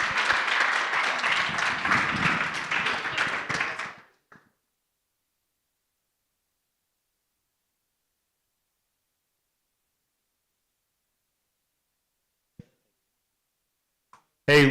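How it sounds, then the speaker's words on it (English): Conference crowd at a Bitcoin event in Medellín applauding, a loud burst of clapping for about four seconds that cuts off abruptly into silence, with a few faint clicks and a brief noise near the end. "Give him one more round of applause"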